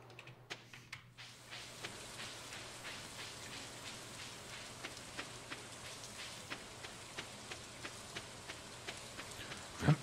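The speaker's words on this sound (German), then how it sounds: "es regnet, es stürmt" Rain and storm in the video game Stardew Valley: a soft, steady patter of rain with regular sharper drop-like ticks, faint and even, with a low hum underneath and no voices.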